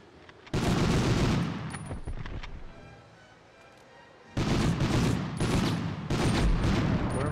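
Heavy sustained gunfire and explosive blasts in Medal of Honor, two long dense volleys of rattling shots and booms separated by a quieter lull, loud and close.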